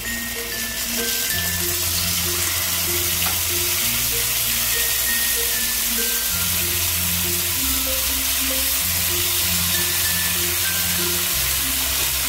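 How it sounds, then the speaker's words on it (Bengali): Pomfret pieces frying in hot white oil on a tawa, a steady loud sizzle running throughout with a low humming tone beneath, no voices. "তেলটা গরম হয়ে গেছে, এবার আমি একে একে মাছগুলোকে দিয়ে দেবো।"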